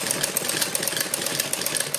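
A sewing machine stitches kurti fabric, its motor giving a steady, fairly loud mechanical whir with quick rhythmic pulses throughout, and no speech.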